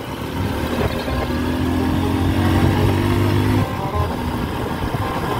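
A motorcycle cruising at about 40 km/h on a road in Davao de Oro between Sawata and Tagum. Its engine hums steadily and loudly with a droning, even tone that dips briefly near the end.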